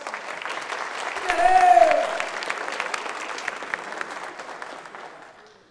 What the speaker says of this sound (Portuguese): Dá mais uma salva de palmas aqui.